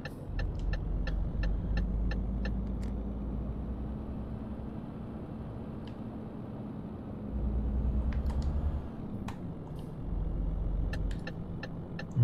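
A truck in Euro Truck Simulator 2 drives along with a steady, low engine drone that swells slightly at moments, joined by a few faint clicks and ticks.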